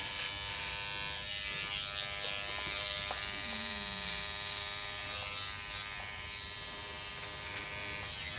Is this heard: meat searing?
no